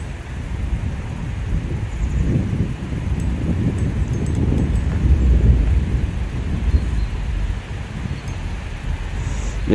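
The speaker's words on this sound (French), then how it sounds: "Le vent s'est levé" Wind gusts across the microphone beside a river while fishing with a feeder rod, a steady rumbling roar that swells and eases over several seconds, with faint rustling and no talk.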